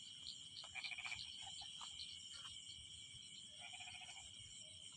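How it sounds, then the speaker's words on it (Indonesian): Frogs croaking in short repeated bursts from several directions in a humid area, with a steady high insect drone and low background noise throughout. "ini kanan kiri suara kodok mengindikasikan daerah sini kelembapannya tinggi"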